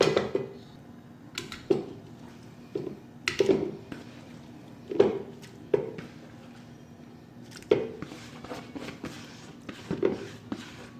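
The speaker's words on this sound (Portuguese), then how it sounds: "vou pegar o meu peito de frango e vou colocar aqui dentro da minha panela de pressão" Chicken breast is dropped into a metal pressure cooker in a home kitchen, giving scattered close clinks and soft knocks of the pot and utensils, with quiet gaps between them.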